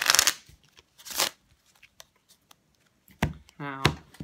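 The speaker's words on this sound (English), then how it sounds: "I'm going to give the deck a quick shuffle here" A deck of playing cards is shuffled twice in quick, crisp bursts, close and fairly loud, separated by a quiet pause. A brief voice follows at the end.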